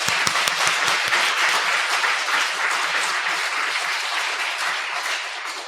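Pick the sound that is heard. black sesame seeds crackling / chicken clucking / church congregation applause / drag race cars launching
church congregation applause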